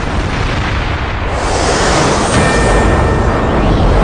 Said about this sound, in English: This is the moment that Israeli airstrikes hit.